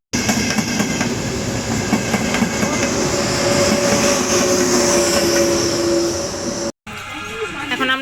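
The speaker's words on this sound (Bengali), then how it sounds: "এখন আমরা ট্রেনে করে চলে যাচ্ছি।" A train travels through Puglia, Italy, with a loud, steady rumble and rhythmic rail clatter that carries on throughout, broken by a brief cut near the end, with faint voices murmuring underneath.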